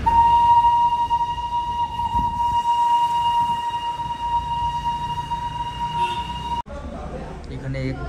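Darjeeling toy train passing at Batasia Loop, with a loud sustained horn tone over rumbling rail noise that ends abruptly, followed by quieter ambient sound.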